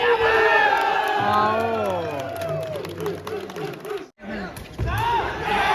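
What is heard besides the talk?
crowd cheering at volleyball final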